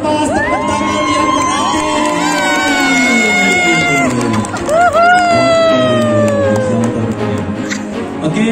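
Loud excited shrieks, cheers and whoops from a crowd of guests at a wedding balloon release, many rising and falling voices overlapping with clapping underneath.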